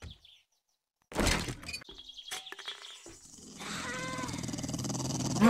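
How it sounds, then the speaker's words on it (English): A dog in the survival video game 7 Days to Die growls and snarls in a few harsh bursts, then a steadier call sounds over busy game ambience. "Uh-oh, I hear a dog."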